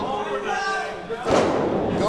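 A wrestler crashes face first onto the ring canvas during a multi-man match, a sudden heavy thud halfway through, followed by a loud surge of crowd reaction while a commentator talks over the action.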